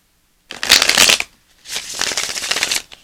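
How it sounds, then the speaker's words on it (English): A deck of tarot cards is shuffled up close in two loud riffling bursts separated by a brief pause, each a rapid fluttering rush of cards. "I just clear and cleanse these cards and they're shuffling nicely."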